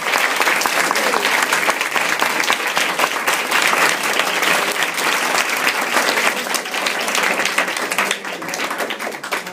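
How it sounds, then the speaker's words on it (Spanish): Sustained applause from an audience of young people at a talk, a dense, steady wash of many hands clapping close by for the whole stretch, with some voices mixed into the crowd noise. "vamos a darles un aplauso"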